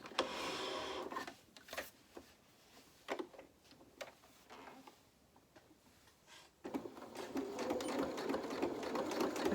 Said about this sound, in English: now we're just going to sew down here at 1/4 of an inch.